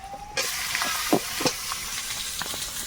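Chicken meat drops into a hot pan with garlic and bursts into a loud, steady sizzle of frying, with a few stirring scrapes and clinks over the continuous hiss.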